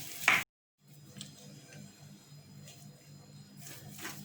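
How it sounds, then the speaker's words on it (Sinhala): A short eats filling mixture is stirred in a pan, giving quiet scraping and soft sizzling after a brief burst of noise and a moment of silence. "දැන් මේක ටික ටික කලවම් කරගන්නවා."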